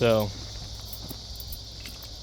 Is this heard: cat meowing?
no